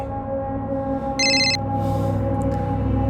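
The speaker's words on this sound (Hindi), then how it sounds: "क्यों फोन कर रहा है अभी?" A phone rings once with a short electronic trill over a steady background hum, clear and fairly close, then the ambient drone continues.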